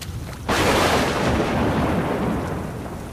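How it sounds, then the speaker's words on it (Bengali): A loud thunderclap used as a sound effect in a Bengali audio story: a sudden sharp crack that swells into a broad, rolling rumble and slowly fades, with no voices over it. "কড়কড় করে জোরে একটা বাজ"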